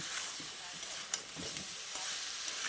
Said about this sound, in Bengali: নুনটা দিয়ে এঁচোড়ের সঙ্গে খুব ভালো করে মিশিয়ে নিচ্ছি।